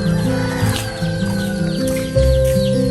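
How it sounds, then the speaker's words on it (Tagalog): Several chickens clucking close by, overlapping calls in a steady stream, with a rooster-like note mixed in. "Daming manok din tatay ko"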